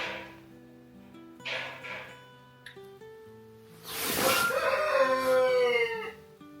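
A neighbour's rooster crows from nearby, a long, loud, rising-and-falling call in the second half, following quieter tonal sounds, with no talk heard.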